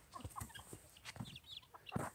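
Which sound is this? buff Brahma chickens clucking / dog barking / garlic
buff Brahma chickens clucking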